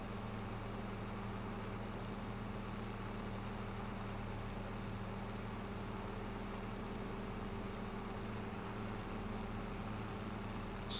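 A tractor drives in Farming Simulator 22, a steady low engine drone holding an even, continuous rumble throughout with no breaks and no voices.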